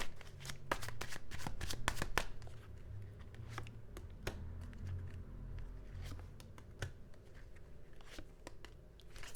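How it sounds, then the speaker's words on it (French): Tarot cards are shuffled and drawn by hand, giving a close, steady stream of riffling and soft slapping card noises with a few sharper flicks as cards are pulled. No one speaks. "Je vais juste tirer encore quelques cartes parce que je sens que les messages ne sont pas terminés."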